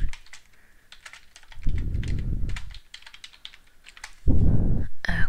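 Rapid typing on a computer keyboard, close clicking keystrokes in quick bursts, with stretches of low rumbling background noise between them.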